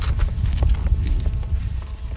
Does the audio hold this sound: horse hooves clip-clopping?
yes